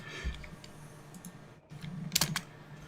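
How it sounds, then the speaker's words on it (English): Typing on a computer keyboard, scattered light clicks and taps in short bursts, fairly close with brief pauses between. "sorry about the typing sound."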